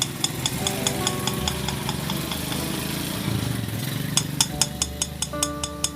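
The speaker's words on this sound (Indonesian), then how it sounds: "suaranya timbul dari benturan antara liner boring dengan piston yang sudah oblak" A Minerva MX 150 motorcycle engine idles roughly, a worn piston slapping against the cylinder liner to make a regular metallic ticking knock over a low, uneven engine drone, recorded close up with no talking.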